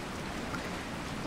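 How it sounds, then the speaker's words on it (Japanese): Rain in the video game Resident Evil 4 falls as a soft, even hiss, a faint and steady wash of noise with no other clear sounds. "雨ほんと嫌やわ。"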